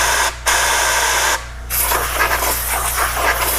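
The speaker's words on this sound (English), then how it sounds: "We're going to take some compressed air right into the pilot opening." Compressed air sprayed into the pilot opening of a clogged Mr. Buddy portable propane heater, loud hissing blasts in three bursts separated by brief pauses, close up.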